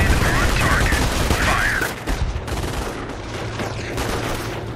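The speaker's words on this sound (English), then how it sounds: "Naval Company, we're coming under fire!" Automatic weapon fire in a Company of Heroes World War II battle, dense rapid bursts of machine-gun and rifle shots, loud at first then thinning into scattered shots with a distant rumble.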